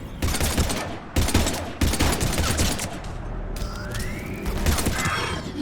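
Sustained automatic gunfire from the video game Mass Effect 3 combat, dense bursts of rapid shots close and loud with brief gaps, followed by mechanical game effects.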